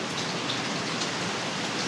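Steady rain falls outside a porch on a wet day, a dense even hiss of drops that holds at the same level throughout with no voices.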